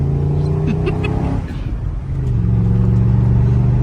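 A BMW car engine revs up loudly and close, its pitch climbing, dipping briefly as if shifting gear, then rising again steadily.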